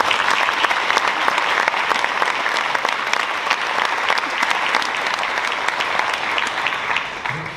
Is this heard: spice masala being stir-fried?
no